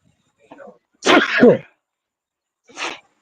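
A single loud, close sneeze with a short lead-in breath, followed by a brief vocal sound moments later, at an Atlanta Falcons training camp.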